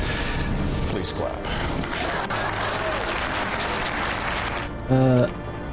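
Crowd applause in a fantasy video game swells loudly and continuously, a dense wash of clapping that fades slightly, followed by a short tonal chime near the end.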